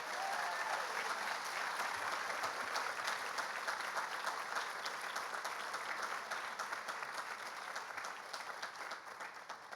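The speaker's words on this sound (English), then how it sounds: "Let's give the students another round of applause." Sustained applause from an audience after student capstone presentations, dense steady clapping that slowly eases off over about ten seconds.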